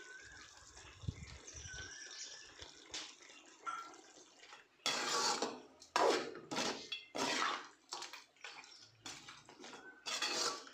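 Ground spice powder is stirred into a country chicken fry in a pan, heard as a series of loud metallic scrapes and clanks of a spoon against the pan, close and irregular, after quieter kitchen sounds.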